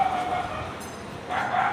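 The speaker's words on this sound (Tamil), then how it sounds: "இப்போயே நாய் குலைக்குது" A dog barks and yelps in a street setting in Madurai, two brief bursts near the start and end of the moment, under steady background noise.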